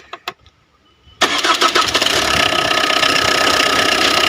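A Tata Vista car engine cranks and catches after a couple of short clicks and a pause, then settles into a loud, steady idle close by.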